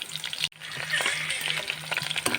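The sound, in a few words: onions frying in hot oil with bay leaf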